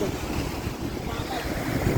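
Sea waves surging and washing on Rushikonda beach, a steady close roar of surf mixed with gusting wind buffeting the microphone, continuous and loud throughout with no voices.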